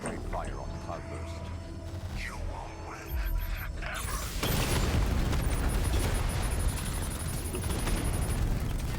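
Batmobile cannon fire and explosions in Batman: Arkham Knight, mechanical whirs and clanks giving way to a sustained, dense roar of blasts that fills the second half, with a voice talking over the early part.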